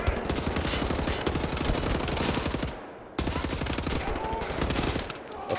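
Rapid automatic gunfire in Wolfenstein: The New Order, dense loud bursts of shots rattling continuously, with a brief pause before the shooting resumes just as hard.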